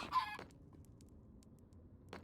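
A short burst of Minecraft chicken clucking opens, then near silence with faint background hum, and a brief cluck returns at the end.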